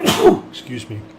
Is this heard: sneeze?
yes